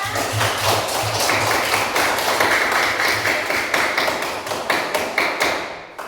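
Schoolchildren clap their hands in an elementary school classroom during a counseling lesson, a loud, busy patter of many hands close by, with a low hum and a few thumps underneath.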